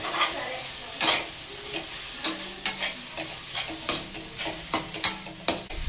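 Gongura leaves frying in a pan with irregular scraping stirs over a steady low sizzle, loud spatula strokes coming every half second or so, close up with no talking.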